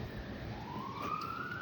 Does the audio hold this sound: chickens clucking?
no